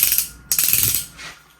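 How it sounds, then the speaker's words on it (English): An antique Dunlap ratcheting bit and brace clicks through two quick bursts of rapid, close metallic ratchet ticks, separated by a short pause and heard alone. "you can ratchet, back it up, ratchet, back it up"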